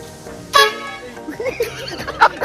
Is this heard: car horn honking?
yes